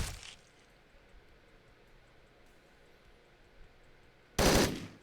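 Gunfire in the video game Hotline Miami 2, a short loud burst at the start, a quiet stretch, then a second heavy blast of shots near the end.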